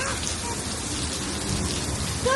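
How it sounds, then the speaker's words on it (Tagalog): Heavy rain pours steadily outdoors in a parking area, a dense, constant hiss of drops close by with no break, loud and unbroken, with no voices over it. "Lumakas ang ulan."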